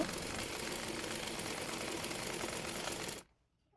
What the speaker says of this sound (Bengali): এরপর দাগ অনুযায়ী বডি পার্টটি সেলাই করে নেব।